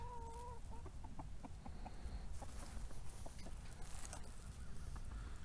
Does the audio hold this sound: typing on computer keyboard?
no